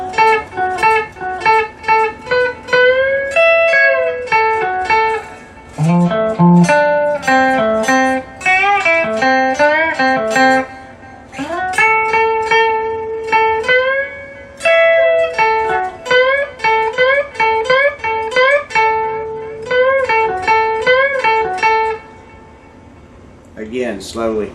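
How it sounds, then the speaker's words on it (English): Slow cigar box guitar rendition of the second solo from a song, plucked single notes and short runs in a steady, deliberate rhythm, played close and clear with no talking. "So slowly, this second solo will sound like this."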